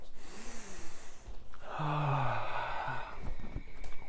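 Deep audible breathing in downward facing dog during a full-body yoga flow: a long, close inhale and exhale with a sighing, gasping quality and a faint background hum.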